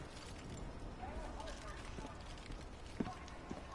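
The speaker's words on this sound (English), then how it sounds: "I have to calm the horse first," Steady hoofbeats of a horse in the video game Fallout 76 clip-clop through a busy, noisy background, with a voice talking over them and a couple of sharper knocks near the end.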